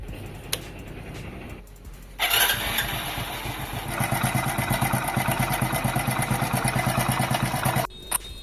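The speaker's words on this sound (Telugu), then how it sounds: "ఇంజిన్లో సౌండ్ వస్తుందని కస్టమర్ అయితే మన దగ్గరికి వచ్చాడు." A Hero Splendor Plus 100cc motorcycle engine with a worn timing chain starts up and settles into a steady running rhythm, with a rapid mechanical ticking and rattle over the engine note, loud and close, no talk.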